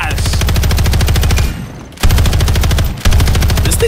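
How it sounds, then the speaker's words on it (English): An LMG firing in the video game Modern Warfare 3, loud and close, in long sustained automatic bursts of evenly spaced rapid shots, broken by two short pauses. "And then the LMG."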